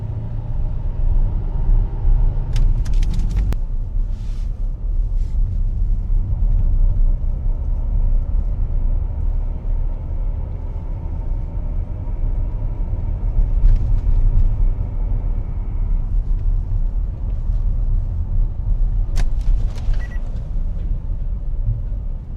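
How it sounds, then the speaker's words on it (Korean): A Range Rover SDV8 with a worn, grinding differential bearing drives along, giving a steady low rumble and road drone that persists for the whole stretch, with a few faint higher clicks and no talking. "고주파 완전 고주파는 아닌데 또 그런 소리야 뭐 베어링 갈리는 소리"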